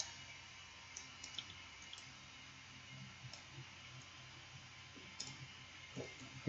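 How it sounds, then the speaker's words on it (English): Quiet, steady mechanical hum with scattered soft clicks and ticks, like a 3D printer running in the background of a room. "Sorry about the noise in the background. I've got the 3D printer going."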